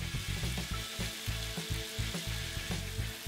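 Meat sizzles in a pan with braised carrot and celery, a steady frying crackle broken by repeated stirring scrapes in a regular rhythm, close and alone with no talk.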